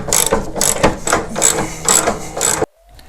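A ratchet clicks in several quick bursts while tightening beefy bolts on an aftermarket modular K-member in a '79 Mustang coupe, loud and close, with brief pauses between strokes before it stops abruptly.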